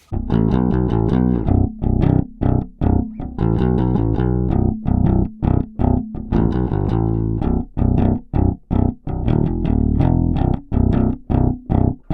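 A bright, punchy Ibanez SRMS625EX bass guitar on the bridge pickup plays a fast rhythmic riff of sharply plucked notes with a slightly gritty edge, loud and up close, with no talking.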